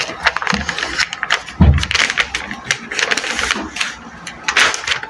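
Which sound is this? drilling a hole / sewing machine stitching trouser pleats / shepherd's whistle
sewing machine stitching trouser pleats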